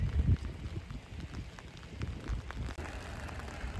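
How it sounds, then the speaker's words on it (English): Rain falls on a Dublin street, a steady soft patter and hiss with scattered drops and a few low bumps of wind or handling, and no voices. "The weather is so bad, it's so rainy"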